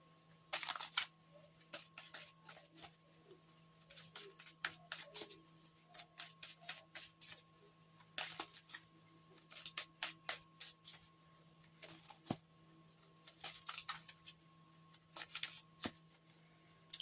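Close, quiet riffling bursts of tarot cards from a Seasons of the Witch Tarot Oracle deck being shuffled and drawn, repeated in short irregular clusters over a faint steady hum.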